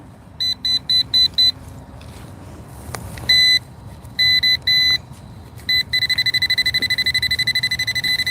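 Electronic beeping from a Bounty Hunter Tracker metal detector: short bursts in uneven groups, then a rapid, steady run of quick beeps near the end, over low background rumble.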